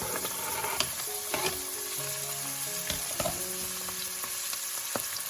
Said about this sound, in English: I will saute everything together for another minute or so.